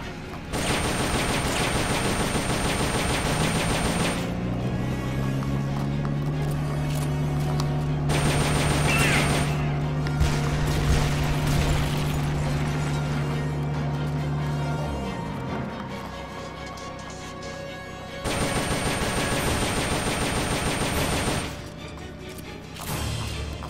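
Video game gunfire from Metal Gear Solid: Peace Walker, sustained rapid automatic bursts with brief pauses between volleys, loud and dense against a steady game soundtrack, with almost no talking.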